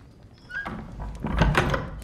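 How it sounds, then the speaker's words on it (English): A door is pulled shut in a room, a soft scrape followed by a dull thud with brief rattling, close by and with no one speaking. "Close the door."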